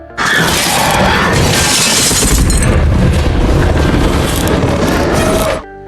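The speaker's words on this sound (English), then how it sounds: "tables and chairs suddenly overturned and lamps and flower pots were smashed down by an invisible force" Furniture crashes over and lamps and flower pots shatter in a haunted farmhouse horror scene, a loud sustained barrage of smashing and booming impacts that lasts several seconds before cutting off abruptly.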